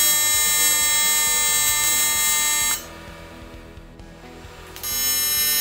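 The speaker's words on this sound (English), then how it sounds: "Now these are ready to be tack welded and then finish welded." TIG welding on round aluminum tubes of a bicycle frame: a steady, bright electrical buzz from the arc that drops away for about two seconds midway, then resumes.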